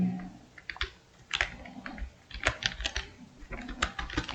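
Close, brisk typing on a computer keyboard, with quick clusters of key clicks and short pauses between bursts.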